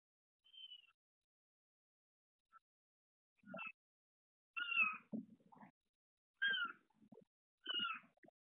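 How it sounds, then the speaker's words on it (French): A kitten meowing in short, faint, high cries spaced a second or so apart, several separate calls against near silence. "Et ben le chaton est réveillé."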